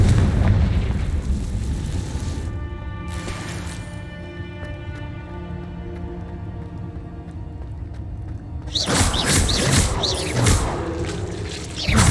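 Confringo fire spell from the game Hogwarts Legacy: an explosive burst at the start, a quieter rumbling stretch, then another loud, crackling blast near the end, with no talk over it.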